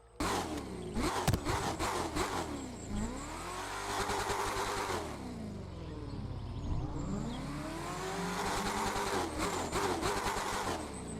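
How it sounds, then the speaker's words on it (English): A Chevrolet Corvette C8.R V8 race car engine in the video game The Crew 2 roars and revs repeatedly, pitch climbing through gears and dropping between shifts, loud and close with a deep rumbling tone. "Gotta love the sound of a V8"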